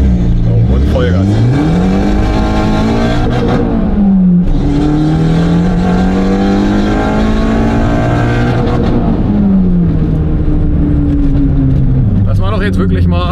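Front-wheel-drive car under full-throttle acceleration from a standstill, engine note climbing steadily through the revs with pitch drops at each gear change, loud and close, with someone talking over it.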